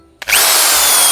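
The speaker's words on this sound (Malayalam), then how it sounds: "ഡ്രിൽ ചെയ്തിട്ട് ഹോളടിക്കുക." An electric drill bores a hole in a home wall to mount a folding ironing board, kicking in abruptly after a brief quiet moment and then running loud and close with a steady high whine.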